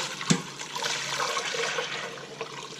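Twelve cups of water pouring steadily into a container for making liquid castile soap, a continuous rushing splash close by, with a brief clunk near the start.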